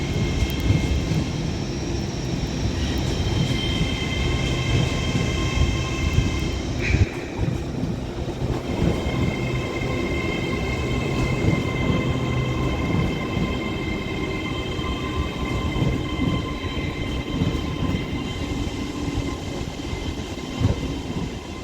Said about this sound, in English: now arriving in is going to be the 1401 Transpennine Express service from Newcastle, which is going to be a class 802